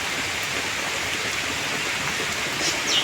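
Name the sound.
rain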